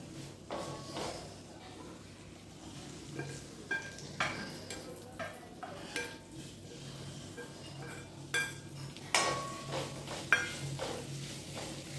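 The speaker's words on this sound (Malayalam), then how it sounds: "ഇനി നമുക്കിതിലേക്ക് ആ വറുത്ത് വെച്ച ഉള്ളി ഇടാം" Fried onions go into a pan and are stirred, giving soft scraping, clinks and light knocks of a spoon against the pan, faint and irregular, at close range with no talking.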